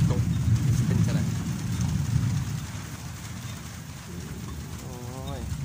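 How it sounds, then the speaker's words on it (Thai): Steady morning rain falls outdoors in a rural yard near a tamarind tree, a continuous close hiss of drops on surfaces throughout, with no talk over it. "บรรยากาศช่วงฝนตกเป็นจังได"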